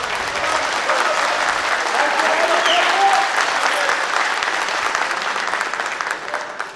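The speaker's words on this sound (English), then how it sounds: "the applause is encouragement for Tayfun Tasdemir" Spectators at a three-cushion billiards World Cup semi-final in Ankara give a loud, sustained round of applause that holds steady for several seconds and then begins to taper off.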